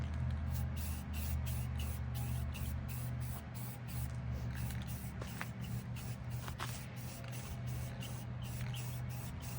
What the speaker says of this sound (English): now I'm putting my clear coat on